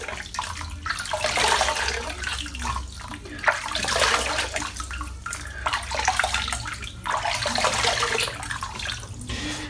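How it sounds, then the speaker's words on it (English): Warm water splashed onto the face during a wet shave at a sink, a continuous run of splashing and trickling with short pauses, close and fairly loud, with faint voice-like sounds underneath. "So that's the first time I splash water on my face."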